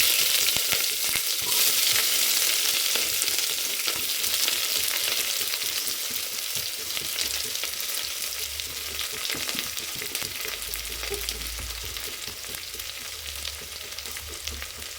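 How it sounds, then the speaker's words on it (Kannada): Chopped onion and mustard seeds fry in a pan with a steady, close, broadband sizzle that fades slightly over time, with occasional stirring scrapes and no voices. "ಇವಾಗ ಮೀಡಿಯಮ್ ಸೈಜಲ್ಲಿ ಹಚ್ಚಿರೋಂಥ ಈರುಳ್ಳಿ ಹಾಕೋಣ"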